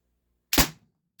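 A single sharp Umarex TR 50 (HDR 50) air rifle shot fired indoors, a loud close crack with a short decaying tail, followed by a faint click about half a second later.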